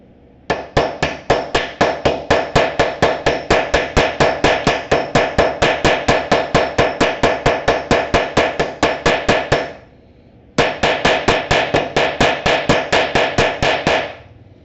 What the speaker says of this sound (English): gonna just set a rivet real quick